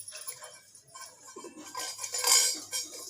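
Brass kitchen vessels and cups from a set of wedding utensils clink and clatter as they are handled, with scattered small metallic knocks of moderate loudness and no talking.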